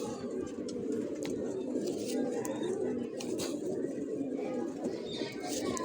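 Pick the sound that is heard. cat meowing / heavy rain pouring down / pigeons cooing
pigeons cooing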